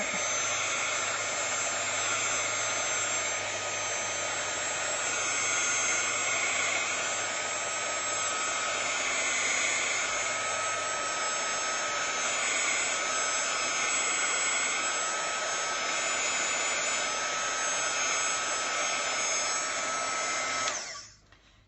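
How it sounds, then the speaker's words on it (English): Hot air tool blowing over a watercolor painting to dry it, a steady loud whirring hiss of fan and air that runs unbroken for about twenty seconds before cutting off abruptly. "I'm going to hit this with a little hot air"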